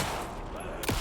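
A sudden loud gunshot-like bang in the Alan Wake 2 video game erupts near the end of a second of dense, rumbling ambience, a sharp jump-scare hit with a falling tail.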